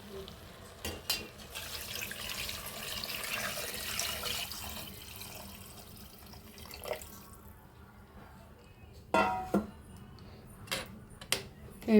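Water poured into a pot of heated rice while making chicken pulao, a soft trickling and splashing that fades, followed by a few sharp clinks of a vessel, fairly quiet overall.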